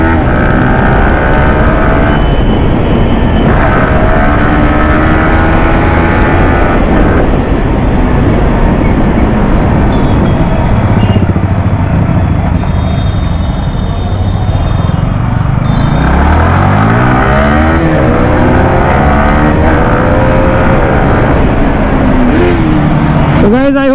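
A Yamaha R15M and a Bajaj NS200 street race on a road. The motorcycle engines and rushing wind roar loudly and continuously, close to the mic, with someone talking over the noise.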